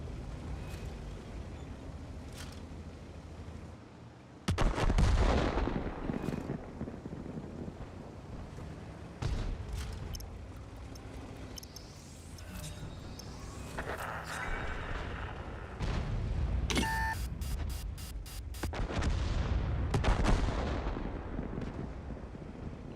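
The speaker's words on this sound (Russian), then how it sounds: "Скоро будет нанесен авиаудар." Airstrike explosions and artillery fire boom in a front-line combat game, with loud, heavy blasts and rumbling impacts over steady wind-like noise. A fast burst of sharp shots sounds near the end.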